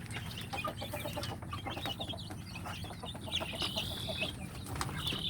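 Sick village chickens with swollen faces and respiratory disease cluck and murmur continuously at close range, with overlapping low calls, scattered sharper notes and some rustling throughout.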